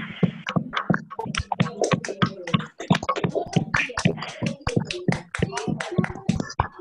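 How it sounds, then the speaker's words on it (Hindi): Audience applause at a leadership development program session in a Hindi-speaking hall, a burst of many hands clapping densely and unevenly for several seconds, fairly near and steady before tapering off. "एक बार जोरदार ताली हो जाए"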